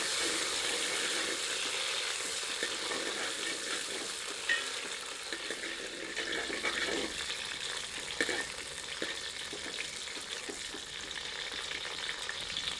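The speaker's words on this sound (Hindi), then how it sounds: "अब इसमें भीगी हुई मथानिया मिर्चों को सम्मिलित करते हैं। इन्हें 1 मिनट घी में भून लेते हैं।" Soaked Mathania chillies sizzle and crackle softly in hot ghee, a steady quiet frying hiss with occasional scraping stirs, close and without talk.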